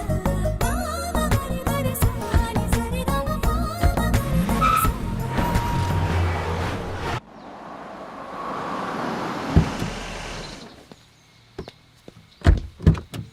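An Audi Q5 drives off with tires squealing, first over music-like tonal noise, then a broad rushing engine and road roar, ending in a few sharp thunks like doors shutting.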